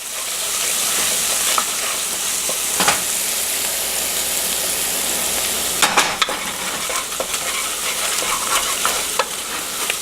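A spice is stirred into red bean soup in a pot over the heat. Steady sizzling and hissing runs throughout, with occasional louder scrapes and knocks from the spoon, close up and with no talking.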